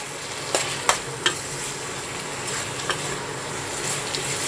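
Dry potato curry being stirred in a pan, with a low steady sizzle and a few sharp scrapes and clinks of the spoon against the pan, no voices.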